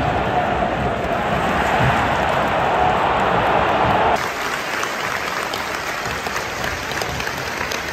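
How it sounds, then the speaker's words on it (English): A large football crowd at Celtic Park during Celtic versus Rangers claps in dense, sustained applause, loud and continuous throughout, slightly thinning partway through. "Claps on the ground in the 14th minute."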